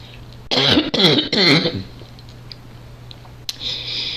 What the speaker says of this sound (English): This cough, that's not from pneumonia